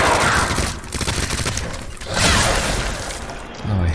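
Several loud gunshots ring out in the video game Resident Evil 2, with a heavy blast near the middle and another at the end over a noisy, echoing background. There is no talk.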